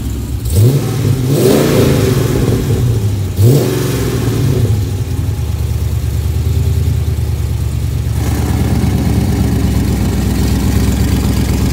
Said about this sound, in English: It's got a 448 under the hood with exhaust cutouts.